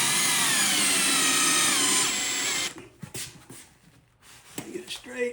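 Power drill driving a lath screw into a wall stud while mounting a garage outlet, a loud steady whirring burst for under three seconds that then stops, followed by quieter handling clicks and faint speech.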